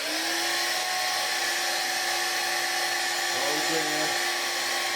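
A Vax Air cordless vacuum motor spins with its bin removed, giving a steady high-pitched whine close by, and a person briefly speaks over it.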